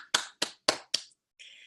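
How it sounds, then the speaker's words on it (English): Four sharp claps in a slow, even rhythm, close and loud, followed by a brief hiss. "That deserves an applause."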